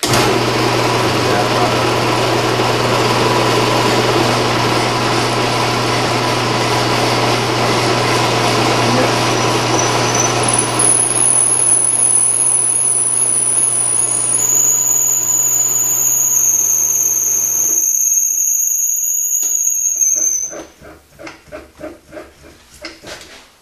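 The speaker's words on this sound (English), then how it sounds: "next operation is to send the drill bit down the center." Drill bit boring down the centre of a metal trumpet pipe on a lathe: a loud steady machining whine with rising high squeals for about twenty seconds, then it stops and a few faint clicks and knocks follow.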